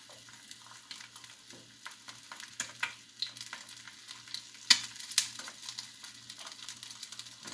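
A fried egg with its white edges crisping sizzles softly in a pan, a light continuous crackle with scattered louder spits and scraping stirs, close and without speech.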